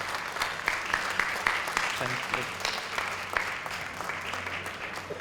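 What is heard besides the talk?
audience applause for the speakers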